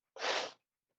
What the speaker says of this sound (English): I'm sorry about all the sneezing.